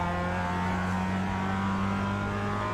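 A race car's engine holds a loud, steady high-revving drone under hard acceleration, close and continuous with no speech.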